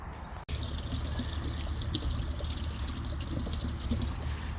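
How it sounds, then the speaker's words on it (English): Water running steadily out of a drain pipe on a farm while a pressure-washer drain jetter is fed into it, a constant trickling rush with faint splashes. "Already that pipe is running more than I've ever seen it run"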